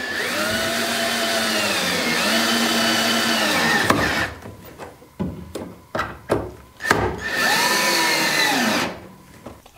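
A power driver runs screws into an external piece glued onto the lid of a teardrop trailer tongue box: long, loud whirring runs with pitch sweeps, broken midway by a cluster of short bursts and clicks, then another sustained whine.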